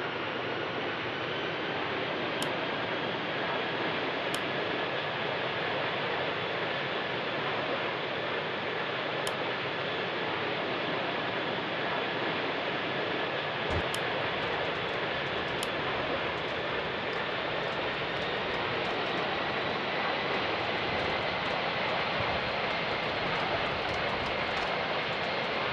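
Airbus A320-200 engines on a takeoff roll in a flight simulator game, an Air Asia Cambodia flight out of Phnom Penh, make a steady loud roar with a slowly rising whine and a few faint clicks.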